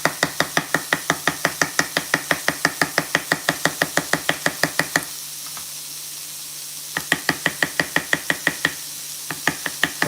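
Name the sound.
knife chopping food for chorizo sausage pasta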